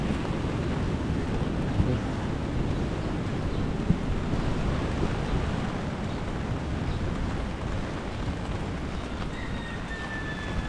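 Ocean waves roll in under strong gusting wind on a rainy day at Bucana, a dense, loud and continuous roar of surf and wind buffeting the microphone.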